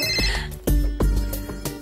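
An indoor telephone rings in repeated loud bursts, each electronic trill starting sharply and sustaining briefly, close by with no talk over it.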